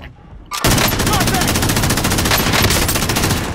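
Rapid automatic gunfire in the video game Call of Duty: Modern Warfare bursts in after a quiet moment, then runs as a loud, dense stream of closely spaced shots for about three seconds.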